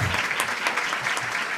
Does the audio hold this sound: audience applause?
yes